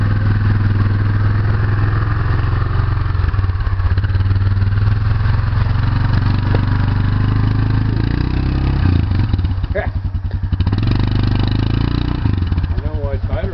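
An off-road 4x4 crawls through a water hole in low gear with the diff lock engaged, its engine droning steadily and close throughout, with splashing and a voice talking near the end.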